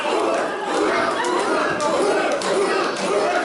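A wrestling event crowd at a PPW PowerSlam TV show makes a dense, steady roar of chatter and shouting voices, filling the whole stretch at a fairly even level.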